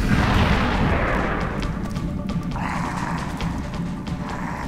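Gunshot fired in XCOM: Enemy Unknown, a heavy booming report at the start that rolls off into a lingering low rumble, with no talk over it.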